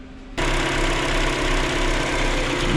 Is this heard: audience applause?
no